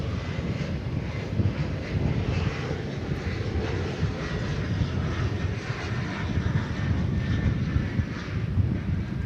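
Qatar Cargo Boeing 777 freighter at DFW airport, its engines giving a steady, loud broadband roar that holds unbroken throughout with no voices.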